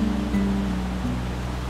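Shower Fall, a waterfall near Ditumabo Mother Falls in San Luis, Baler, pours in a steady, dense rush of water that fills the whole clip with an unbroken roar and no voices.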